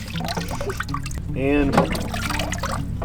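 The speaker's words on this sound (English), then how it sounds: "The sink starts flowing while we're driving." Water trickling and dribbling from a sink in a moving vehicle, a soft bubbly flow heard under steady road rumble, with a person talking over it.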